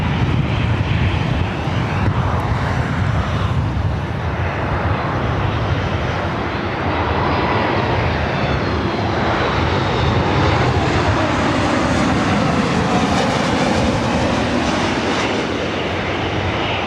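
Airliner jet engines thunder at LAX airport, a loud continuous roar with shifting whine that swells and sweeps as planes pass close by, filling the whole stretch without pause.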